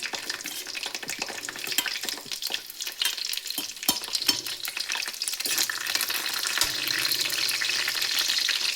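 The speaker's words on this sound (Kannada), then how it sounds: "ಇವಾಗ ಇದಕ್ಕೆ ಕರಿಬೇವು ಸೊಪ್ಪು ಮತ್ತು ಹಸಿಮೆಣಸನ್ನು ಹಾಕ್ತಿದ್ದೀನಿ." Curry leaves and green chillies crackle and sizzle in hot oil already holding mustard seeds and cumin, a steady close frying hiss with a spatula scraping and stirring through it, no voices.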